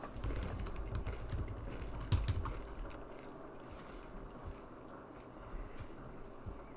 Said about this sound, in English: Need typewriter sounds now.